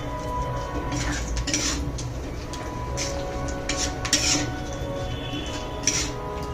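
Metal spoon scraping and clinking against a pan while yogurt is stirred into potatoes for a Bengali doi aloo curry, a steady close run of clatters and scrapes with a few sharper knocks, no talk.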